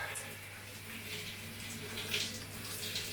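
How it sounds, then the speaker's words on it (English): Tap water runs steadily while soap is rinsed out of a sponge, a continuous close hiss with faint splashing and no clear talk. "you squeeze in that sponge under running water forever and ever and ever to get all the soap out"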